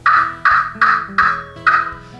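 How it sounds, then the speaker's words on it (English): Five loud, sharp clucks come from a turkey pot call as the striker is moved in quick strokes, evenly spaced and close, with nothing else heard. "You can do it in quick movements like this and that's gonna cluck."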